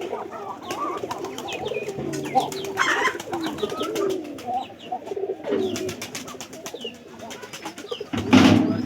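Pigeons coo repeatedly around a home where visiting pigeons are staying, with soft, rolling calls that come close and clear, plus a louder burst near the end and some brief background voices.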